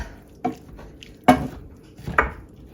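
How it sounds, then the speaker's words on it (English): A Pampered Chef Chop and Stir tool breaks up thawing meat in a soup pot, with three distinct dull thuds and scrapes at irregular intervals against a quiet background. "So I'm just gonna go ahead and hit it with my chop and stir here from Pampered Chef."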